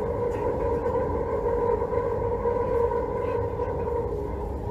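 Train wheels rolling over corrugated rail on a curve make a sustained droning roar with a strong tonal hum, steady and fairly loud from start to end.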